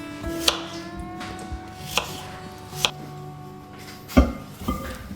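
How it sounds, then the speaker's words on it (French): A knife chops apples coarsely into slices for an apple pie, giving a handful of sharp, irregular cuts against a board, close and fairly loud with short pauses between strokes. "Alors on les coupe en tranches grossièrement, on ne cherche absolument pas la finesse."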